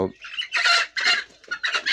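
Several farm chickens, mostly roosters, cluck close by in a busy, repeated chorus of short bursts, loud and clear with no talking.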